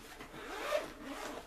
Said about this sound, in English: And let's zip this open.